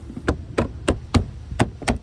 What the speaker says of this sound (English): Sometimes they don't want to go in gently, so you will have to kind of tap them a little bit.